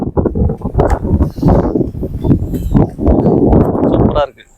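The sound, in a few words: strong wind blowing at the beach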